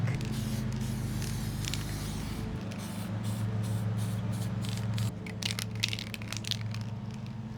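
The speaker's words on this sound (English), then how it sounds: "I'm going to spray paint it to make it black." Bursts of aerosol spray paint hiss close by over a steady low mechanical hum, with short crackling scrapes in between, painting a Halloween craft black.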